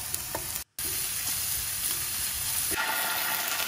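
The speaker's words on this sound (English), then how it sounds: "In a pan, oil, shallots, sweat it off" Shallots sweat in oil in a pan for a Goan prawn balchao, giving a steady, close sizzle and crackle that breaks off for a moment and then carries on.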